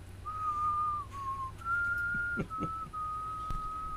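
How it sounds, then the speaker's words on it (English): A person whistles a few sustained, wavering notes with short breaks between them, close and clear over faint background noise. "so you're gonna have to keep whistling"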